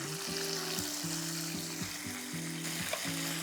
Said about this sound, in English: So I'm frying the tofu now.